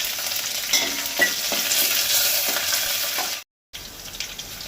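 Mustard seeds, curry leaves and chillies hit hot oil and ghee in a pan for Goan-style sheera, giving a loud, continuous crackling sizzle with a few stirring knocks, then a brief total cutout before the frying resumes.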